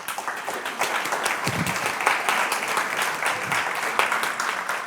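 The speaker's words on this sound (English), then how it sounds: "So can you just give yourselves all a round of applause" Conference attendees applaud themselves, a fairly soft but steady wash of many hands clapping from across the room, with a few faint voices underneath.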